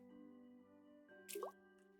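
A watering can pours onto a plant in a video game, giving a short, soft dripping and plopping splash over a steady low electronic hum.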